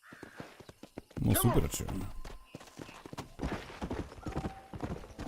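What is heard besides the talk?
Kentucky Saddler horse hooves in the video game Red Dead Redemption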